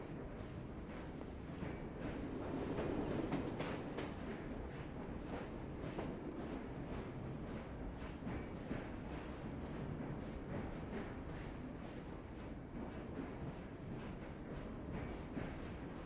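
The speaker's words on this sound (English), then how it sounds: "I'll just let the train take us a little bit." A steam train in Assassin's Creed Syndicate rumbles along on its ride through Victorian London, a steady low rolling roar with faint rattling that stays constant and fairly quiet throughout, with no talking.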